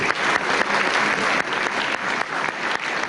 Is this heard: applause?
yes